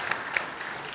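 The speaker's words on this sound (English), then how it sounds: "I think a round of applause" Guests at a wedding reception in a nature museum hall clap together, a brief dense burst of applause with a few sharper individual claps standing out.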